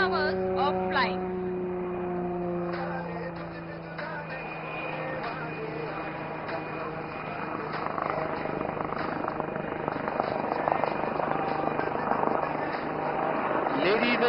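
An HAL Light Utility Helicopter flies in front of the crowd at the Aero India air show in Bangalore, its rotor and turbine drone steady and fairly loud, with a public-address voice and crowd noise underneath.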